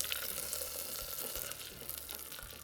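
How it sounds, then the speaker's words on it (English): Honey barbecue sauce made with honey and barbecue seasoning bubbles and sizzles over heat outdoors, a steady close crackling hiss with faint low rumble and no speech. "when the honey starts bubbling like this, you know it's done"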